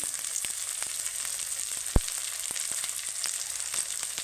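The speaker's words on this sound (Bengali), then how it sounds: "গাজরটা আমার একটু ভাজা হোক গাজরটা আমার হাফ ভাজা হয়ে গেছে" Carrots and other vegetables fry in a pan with a steady, even sizzle and a single sharp click midway.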